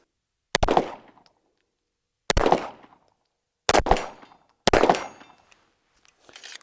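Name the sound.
gunshots from a Staccato pistol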